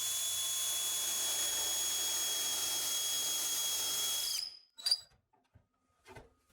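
A power drill bores an angled hole through a pocket-hole jig, a steady high whine for about four seconds before it stops, followed by a few short clicks and handling sounds.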